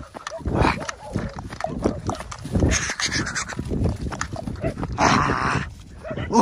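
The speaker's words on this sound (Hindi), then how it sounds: "ओ डॉग्स आ गए हमारे पास, ओ बहुत ज़्यादा आ गए।" Several dogs arriving during a hunt, with close, repeated excited yelps and barks in irregular bursts, mixed with people talking nearby.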